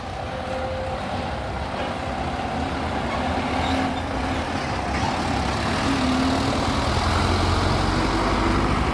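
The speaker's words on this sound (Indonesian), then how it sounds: "itu mobil bus Sapphire Holiday yang akan keluar" A Sapphire Holiday tour bus pulls out with a steady, rumbling diesel engine drone that swells slightly as it moves, heard fairly close and continuous with no talk.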